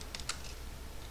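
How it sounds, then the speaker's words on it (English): Keys clatter on a computer keyboard while a search query is entered into Google, a short burst of close, crisp clicks with a few louder strokes spaced irregularly and no voices. "Now in the Google search, I'm typing latest"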